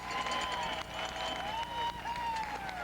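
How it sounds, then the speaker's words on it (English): Ballpark crowd cheers and claps to welcome Kentucky's star center fielder at a college baseball game, a continuous wash of cheering and applause with rising and falling waves and no clear talk. "The crowd on hand gives UK's star center fielder Chris Estep a hearty welcome to their domain"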